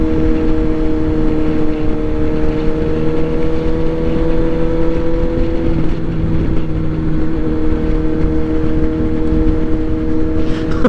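Suzuki GSX-S 750 motorcycle being ridden and accelerating on the road, a loud steady engine drone with sustained tonal whine and heavy wind rumble throughout.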